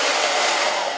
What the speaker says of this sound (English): we are going to blow dry this out